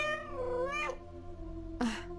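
A cat in the video game Echoes of the Fey gives two clear meows, a long drawn-out one at the start and a shorter one near the end, close and alone over a faint background hum.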